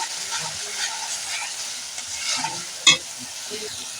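Spices fry and sizzle steadily in a pan for a snail and pumpkin-greens curry, a continuous hiss with light stirring scrapes and one sharp clink near the end.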